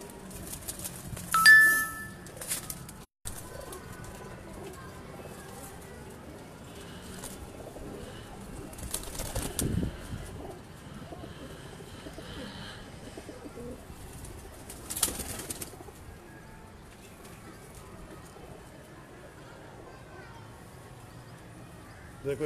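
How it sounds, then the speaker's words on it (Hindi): Breeder pigeons kept in a cross-breeding setup coo softly with a few bursts of wing flapping, heard close by amid general yard noise and some background voices. "ये हाजी साहब के माशाल्लाह जी और ब्रीडर कबूतर हैं जी"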